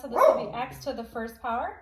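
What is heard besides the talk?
dog barking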